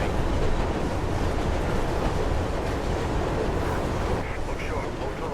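A moving train rumbles in the Mirror's Edge video game, a loud continuous roar of wheels and rushing wind that holds steady throughout.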